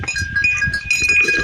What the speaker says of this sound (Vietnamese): con trâu này nó cứ đánh nhau suốt thế này